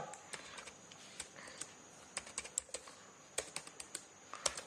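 Python code being typed on a computer keyboard, with quiet, irregular keystrokes clicking in short bursts and pauses, and no talking.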